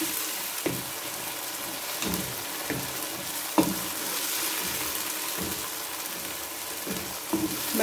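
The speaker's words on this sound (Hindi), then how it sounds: "मटर को हम थोड़ा सा फ्राई करेंगे" Green peas frying in a pan with cumin, giving a steady broadband sizzle with soft periodic stirring knocks throughout, no talk.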